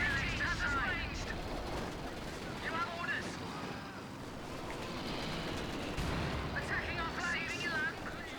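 Flamethrower bursts and machine gun fire from a Company of Heroes 2 4v4 battle on La Gleize, a dense, continuous roar of battlefield noise with crackling gunfire, heard under a caster's talk.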